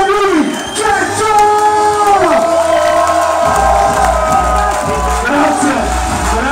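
A festival crowd outdoors cheers and whoops for a performer, a loud continuous roar of voices with rising shouts, while a deep bass thump pulses steadily beneath in the second half.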